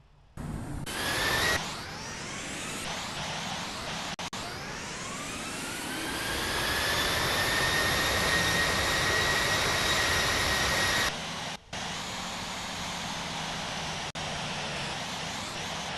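Twin jet engines of an American Eagle ERJ175 in the Infinite Flight game spool up for takeoff on the runway, a loud steady roar with a whine that climbs in pitch and then holds, briefly cut near the end.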